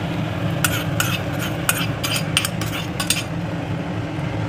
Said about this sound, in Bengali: এইভাবে একটু নেড়ে চেড়ে নেব।